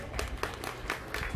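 An audience at the 2024 Mills County Fair sheep show gives a brief round of applause for the kids showing market lambs, scattered claps in a short uneven burst.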